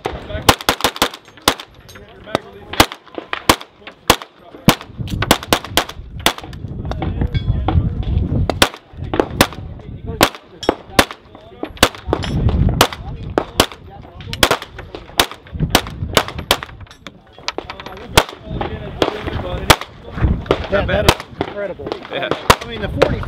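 A KRISS Vector 9mm submachine gun firing at SHOT Show 2016, sharp loud shots in quick single reports and rapid bursts over roughly twenty seconds, with people talking between and under the shots.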